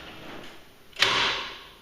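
A Clopay garage door's jack shaft opener lock mechanism gives a sudden clack about a second in, followed by a loud trailing mechanical buzz, after quiet background.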